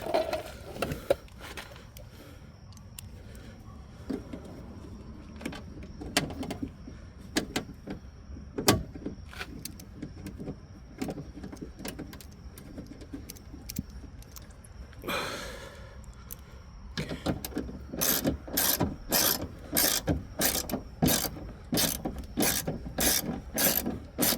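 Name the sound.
tightening bolts on Toyota RAV4 window channel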